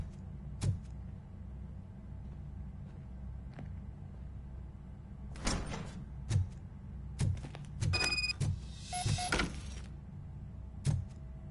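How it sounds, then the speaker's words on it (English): Door opening in the video game RoboCop: Rogue City, heard as a series of mechanical clanks and bursts of grinding and whirring over a low hum, with a couple of brief electronic tones midway. "Now let me get that door open for you."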